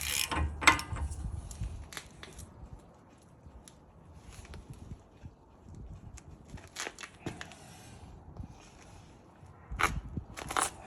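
Ratchet clicks and metallic mechanical clatter as the CV axle nut is tightened on a 2009 Honda Accord coupe with a K24 engine and stick shift, in short sharp bursts near the start and end with quieter handling between.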